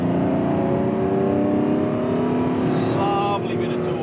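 Ferrari Testarossa flat-twelve engine pulling hard under acceleration in third gear, a loud steady harmonic drone rising in pitch throughout, close and continuous.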